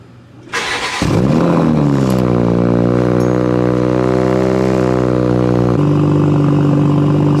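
A Toyota Supra with an HKS carbon intake cranks and fires up, settling into a loud, steady, close idle after a short starter whir, then a brief rev change near the end.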